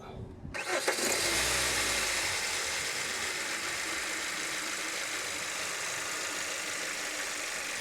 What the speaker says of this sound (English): I need to turn the engine on